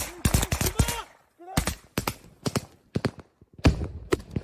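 Gunfire from a soldier's rifle during a firefight in the Ukraine war, sharp broadband cracks in irregular bursts and single shots, loud and close, with brief pauses between volleys.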